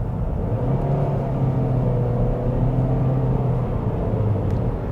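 Steady, droning road and engine hum inside a Toyota Corolla SE with a CVT cruising at about 50 mph, a low, even rumble with faint tonal whine and no talking.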